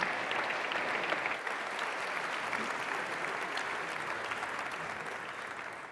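Sustained audience applause at a live cooking competition grand final, a dense steady wash of clapping from a crowd that holds at an even level throughout and eases off slightly at the end.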